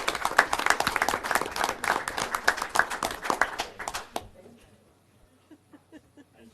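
Applause at a school board meeting as students are recognized, a lively round of clapping from a modest audience that fades abruptly, leaving a few scattered late claps trailing off into quiet.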